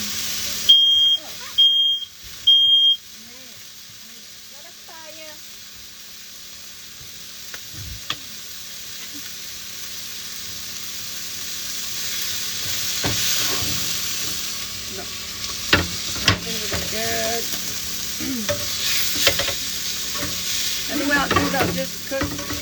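Ground beef sizzles and crackles in a frying pan while a spatula scrapes and stirs it now and then, after three sharp electronic beeps at the start.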